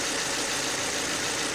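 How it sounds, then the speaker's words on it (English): A car engine runs with a spark plug HT lead partly pulled off, a dense, steady mechanical roar with a rough, uneven edge, close and loud with no voices. "when the HT lead is removed, the engine starts to give up"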